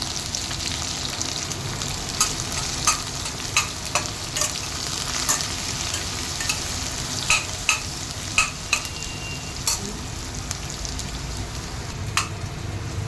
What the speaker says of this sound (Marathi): कांदा छान गुलाबी रंगावर परतून घ्यायचा आता